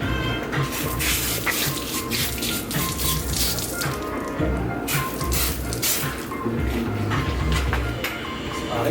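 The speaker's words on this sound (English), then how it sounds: "Got my little hose here. Just rinse it real quick." A garden hose rinses the pre-screen catch filter from a tankless water heater during a flush, making a continuous dense spray and splash of water that stays close, loud and steady throughout, with no talking.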